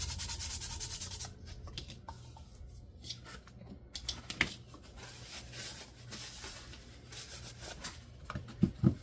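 The sharp edge of a glitter resin apple cast in a mold is sanded by hand, soft rasping rubs in irregular short strokes, close and quiet, with a few light taps near the end.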